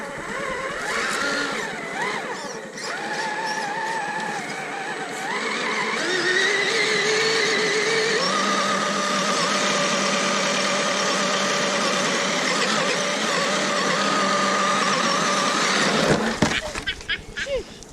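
A Vanquish RC crawler truck with VFD running on Pitbull tyres, its electric motor whining at shifting pitch as it climbs and digs, with people talking over it and a brief clatter at the end.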